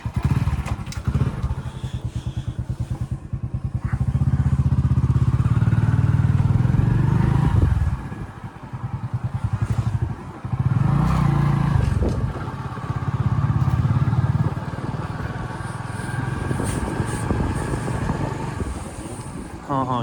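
A motorcycle ridden toward the banks of the Sarsa river, its engine droning loud and close and steady for the whole stretch, with brief dips in level and some rattle.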